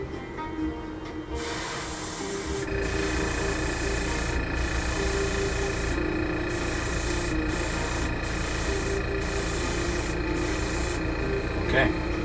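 An aerosol can hisses in repeated short bursts as a light coat of yellow paint goes onto a 1/72 scale B-2A Stealth Bomber model, close and steady, with a low background hum underneath.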